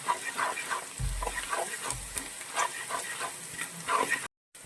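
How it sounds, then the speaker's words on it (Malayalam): Ginger being fried in hot oil as a tempering for coconut upma, giving a steady broadband sizzle with crackles and stirring scrapes throughout, close by, and a brief dropout near the end. "ഒന്ന് നന്നായിട്ടൊന്ന് മൂപ്പിക്കുക ഇവിടെ വറവിൽ മൂപ്പെന്നാലേ അതിന് നല്ലൊരു ടേസ്റ്റ് വരത്തുള്ളൂ"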